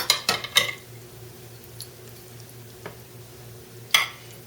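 Sauteed organic onions are spread onto pizza dough in two pans, giving a few sharp utensil clinks and pan knocks against a quiet background, mostly at the start with one more near the end.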